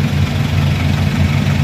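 A Jeep's engine idles steadily and loudly up close, a deep low rumble holding even with no revving and no voices over it.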